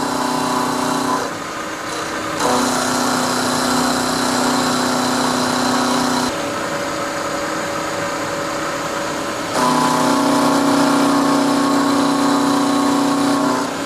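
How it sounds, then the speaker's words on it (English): A milling machine spindle side mills a part with a steady, loud motorized whine and hum. The cutting tone shifts in several distinct steps as the cut changes, and no one talks. "I'm going to turn my spindle on, and we're just going to side mill all the way up to my 0"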